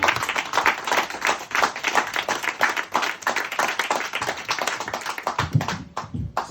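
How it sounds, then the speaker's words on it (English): Audience at a reunion event giving a round of applause and standing ovation: close, crisp hand claps from a modest crowd, steady and rhythmic throughout, fading out near the end with a few low thumps. "A round of applause."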